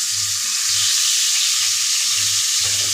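Chopped tomato sizzles steadily in a hot pan in a home kitchen, a constant hiss close by with faint low thumps repeating underneath, no voices.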